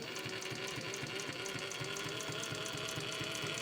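Adler 167-73 industrial sewing machine stitching with fine 200 thread, a #70 needle and long stitches, running at a steady moderate speed with a continuous rhythmic mechanical clatter, close and loud with no voices.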